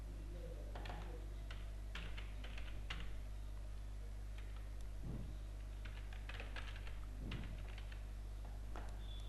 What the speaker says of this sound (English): open the editor and type import java dot util